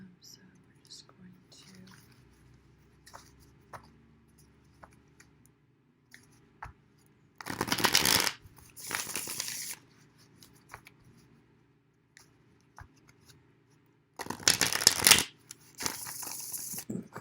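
Tarot cards are shuffled in two pairs of brisk riffling bursts, crisp and close, separated by quiet stretches with soft whispering and small handling noises.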